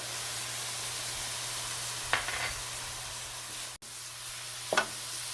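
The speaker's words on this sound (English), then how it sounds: "continue sauteing until you see it that it browns on the side" Italian sausage dusted with dried porcini mushroom powder sautés in a pan, giving off a soft, steady sizzle. A couple of brief stirring scrapes come through faintly and no one speaks.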